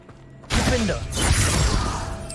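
Flipendo spell cast in Hogwarts Legacy, a sudden loud whooshing, crackling magical burst that swells and sustains over a mechanical, clattering game backdrop.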